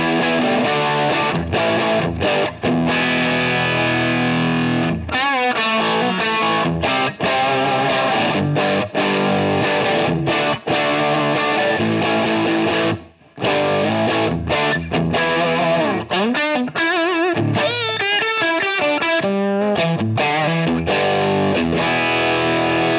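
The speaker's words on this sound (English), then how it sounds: "You can tell right away that there's a lot more distortion when you got them both" Electric guitar pushed through a fully dimed power amp, thick saturated distortion ringing out in sustained chords and riffs, loud and continuous with brief pauses between phrases.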